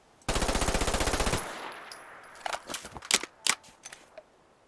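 Gunfire from an MP9 submachine gun in a Fallout 4 mod: a rapid, loud burst of about a second, then the clicks and clacks of a tactical reload of a partially empty magazine.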